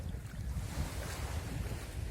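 Ocean waves at sea near Quezon Island in the Hundred Islands wash and rumble continuously, mixed with heavy wind buffeting the microphone and no voices.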